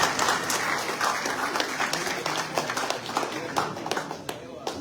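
Audience applause greeting a deputy introduced at a French-language political gathering about the Comoros, a dense, steady wash of clapping from a crowd, fairly close, with murmured voices mixed in beneath it.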